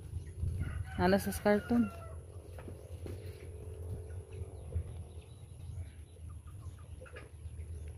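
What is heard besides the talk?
purchased chickens clucking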